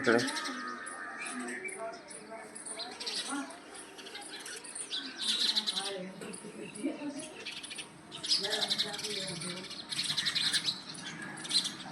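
Sparrows chirp busily nearby in quick, overlapping bursts of high tweets, with a person talking underneath.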